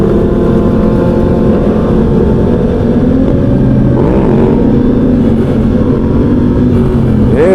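Motorcycle engine revving loudly and steadily during an underground stunt ride, with a rider popping a wheelie nearby amid other bikes, the drone rising and falling in pitch throughout.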